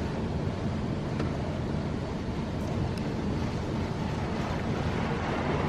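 Low-pressure water spray wetting down a car in a Wesumat softwash automatic car wash, a steady broadband hiss and rush of water that continues without a break at close range.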